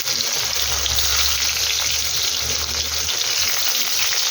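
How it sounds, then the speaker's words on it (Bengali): A large onion, added with whole cumin, fries in oil in a pan, giving a loud, dense, continuous sizzle close up with a low rumble underneath. "পেঁয়াজটা একটু ভাজা ভাজা করে তুলছি"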